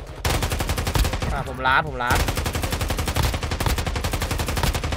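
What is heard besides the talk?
gunfire from the video game Warzone Mobile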